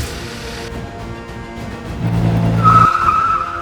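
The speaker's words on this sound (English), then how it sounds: "More cars are coming. Oh no! Ow. They're crashing into each other." Toy cars crash into each other at a bridge edge near a road construction site, with a steady engine hum, a loud low grinding skid in the middle, and a high tire squeal near the end.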